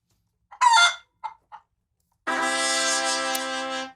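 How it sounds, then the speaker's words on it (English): Recorded chicken and rooster sounds played back: a few short clucks, then a single loud, sustained rooster crow, clear and isolated against silence. "I played the wrong one. There was a chicken."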